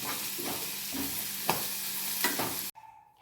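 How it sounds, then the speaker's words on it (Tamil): Pirandai (veldt grape) frying in hot oil, a continuous near sizzle broken by several sharp stirring scrapes, then cutting off abruptly into near quiet. "எண்ணெய் வந்து ஹீட் ஆனதும் பிரண்டையை போட்டு நல்லா வந்து கலர் சேஞ்ச் ஆகிற அளவுக்கு ஃப்ரை பண்ணுங்க"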